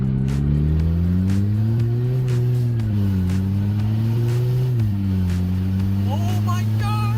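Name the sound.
Audi A4 project car driving and accelerating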